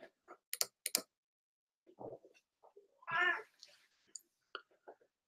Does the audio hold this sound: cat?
yes